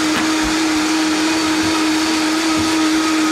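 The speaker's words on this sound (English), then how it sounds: "do a pre-blend on this because that Irish moss can have a tendency to have little bits of stuff floating around in it" A blender runs steadily for a pre-blend of Irish moss, a loud continuous whir with a steady hum and a faint pulsing churn and no talking.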